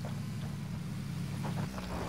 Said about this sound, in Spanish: Hay un coche aquí, hay un coche aquí, hay un coche aquí.